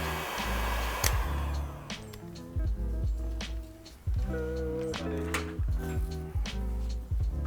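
A heat gun blows steadily while heat shrink tubing is shrunk onto wiring on a commercial espresso machine group head switch, with light clinks and taps of handling in between.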